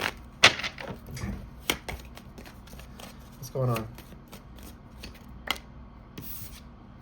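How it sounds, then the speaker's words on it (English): Tarot cards being shuffled by hand, close up, in a series of quick papery riffles and soft slides, with a few sharper bursts and a short spoken question partway through. "one more shuffle and then we're going to start actually pulling cards"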